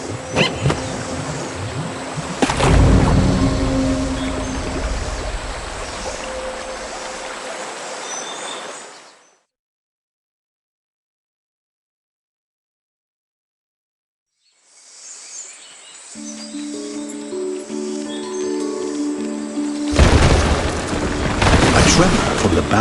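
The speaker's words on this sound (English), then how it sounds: "A tremor from the bowels of the earth sends rocks and streams of water pouring into the gulch." Video game earth tremor sends rocks and streams of water pouring into a gulch: loud rumbling, rushing water and a booming crash, then several seconds of silence before renewed roaring water and a heavy impact near the end.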